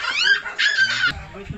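A family dog at a home birthday gathering gives high, whining yips and whimpers in short bursts, close by, mixed in with people talking around it.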